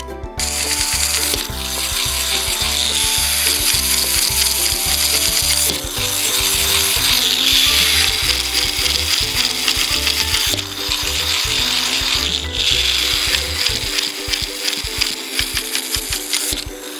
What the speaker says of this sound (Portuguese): Dá cordinho nela!